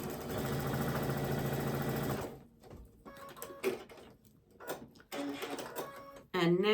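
A sewing machine stitches quilt fabric in a fast, steady mechanical whir for about two seconds, then stops, followed by quieter handling clicks and rustles of cloth.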